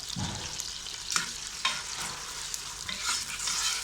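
Meat for turnip curry fries in a pot, a continuous sizzle with repeated scraping stirs and a few sharp ladle knocks against the metal, close and alone without voices.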